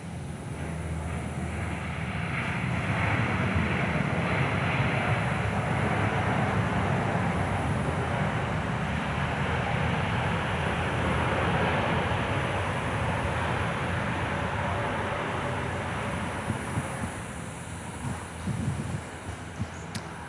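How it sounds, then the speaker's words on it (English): A Boeing 787-9 Dreamliner lands on runway 24 at Perth as a broad, loud jet roar that swells and holds for most of the stretch, then eases off, with wind buffeting on the microphone and no talking. "in from Paris today with the 787-9 Dreamliner dangling the Dunlops on runway 24"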